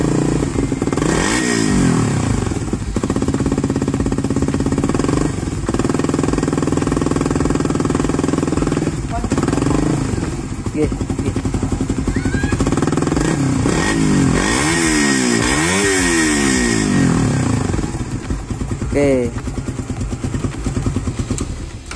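A Suzuki Satria FU Fi motorcycle with an aftermarket SCD exhaust idles with a loud, rough exhaust rumble, then revs up and down in repeated throttle blips, close by and continuous.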